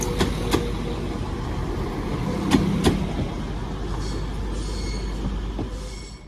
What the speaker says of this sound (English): here's the charter from Birmingham New Street to Plymouth